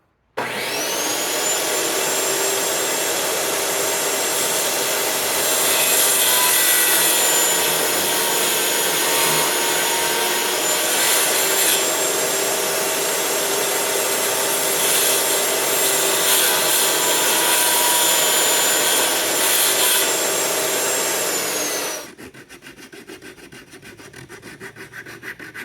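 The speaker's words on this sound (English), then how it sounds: "the idea is going to be to cut a slot in the end of this stick so that this blade sits inside" A saw cuts a slot into the end of a wooden boar spear shaft in a blacksmith shop, a steady loud rasping stroke run lasting about twenty seconds before stopping abruptly, with no talk.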